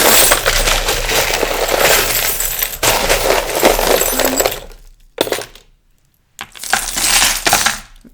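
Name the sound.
metal charms dropped and clinking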